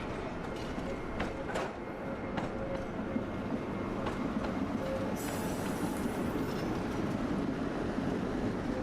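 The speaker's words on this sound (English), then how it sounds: "Just watching the tram go by." A tram rolls past in the video game Funeralopolis, a continuous rumbling rail noise with wheel clatter and a rising squeal, loud and steady throughout with no talk.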